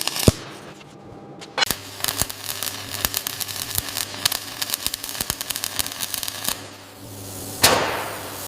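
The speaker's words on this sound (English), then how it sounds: "Performing a hammer tap test for strength verification." A hammer strikes a steel panel on a Mercedes-Benz T1 van in sharp metallic taps, rapid irregular bursts, each hit ringing briefly, close and fairly crisp.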